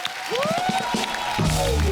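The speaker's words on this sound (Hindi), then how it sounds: "आयुष्मान पाजी के लिए जोरदार तालियां" A studio audience at a TV comedy show breaks into applause and cheering for Ayushmann, loud and dense for two seconds, with a voice calling out over the clapping.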